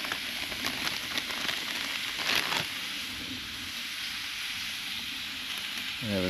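Tomatoes and garlic sizzle in a cast iron bushcraft cooker set over an open outdoor fire, a steady, fairly loud frying hiss that runs unbroken throughout with no voices.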